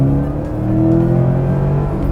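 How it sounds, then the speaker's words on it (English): A 2017 Subaru WRX STI's boxer engine revs in a steady, throaty drone, heard up close and loud with no talking. "You either love that Boxer engine noise or you don't"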